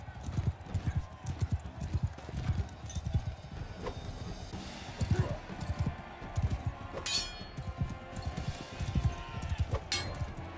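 Horse hooves clip-clop in a steady, uneven trot through a video game while a player talks over them, with a brief metallic clink and a faint whinny-like sound partway through.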